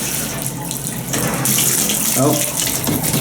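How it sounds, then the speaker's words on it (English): A shower runs in a La Quinta hotel bathroom in Plano, Texas, a steady close hiss of spraying water with a brief voice and some handling noise over it. "We'll go ahead and turn this on so you... This is actually a nice shower."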